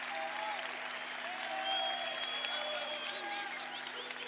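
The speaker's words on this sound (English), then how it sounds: "Great reaction from the crowd." Crowd applauding steadily at a European karate championship match in an arena, a dense wash of clapping throughout with a commentator talking over it.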